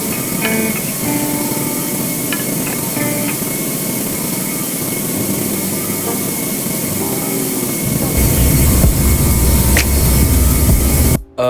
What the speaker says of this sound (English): Here we go for a landing.